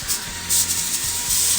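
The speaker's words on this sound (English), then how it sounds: "I'm gonna go ahead and spray it up with a little extra virgin olive oil" Short hissing bursts from a spray bottle misting extra virgin olive oil onto a whole chicken prepared for smoking, several close, soft spritzes in quick succession with no talking.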